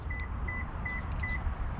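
Four short electronic beeps from a Toyota key fob repeat evenly over a steady low background hum, moderately faint.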